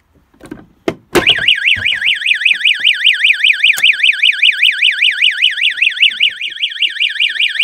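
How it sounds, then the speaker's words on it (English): A few thumps and a click lead into a fire alarm panel siren during a system test, which starts abruptly and then wails on in a loud, fast sweeping warble. "I shut the stopper just so that the siren wasn't as annoying."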